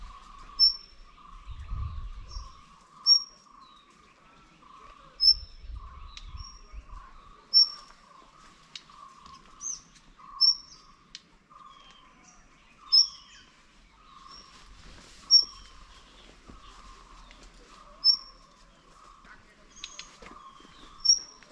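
A wild bird calls on Nandi Hills with short, sharp high whistled notes repeated every couple of seconds over a faint steady insect-like drone, with a few low thumps early on.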